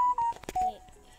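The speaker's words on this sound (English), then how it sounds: "It's a Google Play notification" A Google Play notification plays as a couple of quick, thin electronic beeps, soft and brief, with faint background noise around them.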